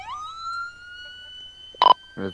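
Ambulance siren in the Roblox game ERLC, a steady electronic wail held for over a second, followed by short loud siren blips and a horn-like burst near the end.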